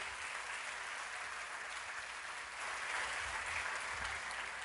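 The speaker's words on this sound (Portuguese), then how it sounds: "aplauda o Senhor Jesus bem forte" A church congregation applauding at a worship service, a steady, fairly faint wash of clapping heard from a distance, continuing evenly throughout without speech.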